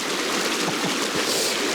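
Stream water rushing over a normally walkable crossing, running high and steady; a continuous broadband wash with gurgling detail, close and fairly loud, with no voices.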